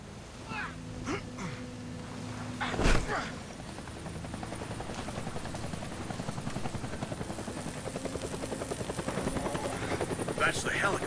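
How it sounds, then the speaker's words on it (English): A helicopter in the video game Deadlight thrums with a rapid rhythmic rotor chop that grows steadily louder and closer, accompanied by a sharp bang and scattered thuds earlier on. "That's the helicopter chasing my friends"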